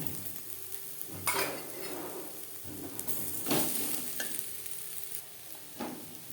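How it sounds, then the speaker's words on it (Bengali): Onions fry in a pan until reddish, a steady close sizzle broken by the scrape and clatter of stirring against the metal, with no one talking. "পেঁয়াজ লালচে করে ভেজে নেব পেঁয়াজ লালচে করে ভাজা হয়ে গেছে"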